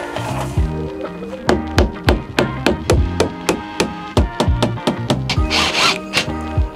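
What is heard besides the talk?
nailing and gluing wood framing pieces in a van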